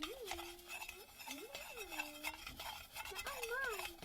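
Strawberry-scented candle mixture stirred in a container, quiet scraping and light clinks of a utensil against the sides, with faint tonal sounds in the background.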